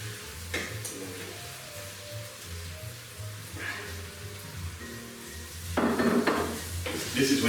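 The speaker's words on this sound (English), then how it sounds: "I'm now going to add the sweet potato" Sweet potato goes into a small saucepan for a vegan Thai sweet potato and coconut soup. Soft sizzling runs under a low hum, with a few clattering knocks and scrapes of pan and utensil and a busier burst near the end.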